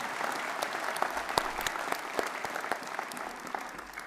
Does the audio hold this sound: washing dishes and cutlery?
no